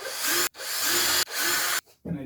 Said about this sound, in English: So I'm going to put some pilot holes.